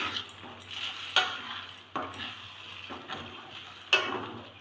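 Eggs frying for egg rice sizzle softly in a pan, with a utensil scraping and knocking against the metal in several distinct strokes over a quiet background.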